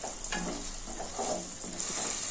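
Seeds roast in a dry pan and are stirred every so often, giving a soft crackle and a gentle hiss with light scraping strokes at a close, fairly quiet level.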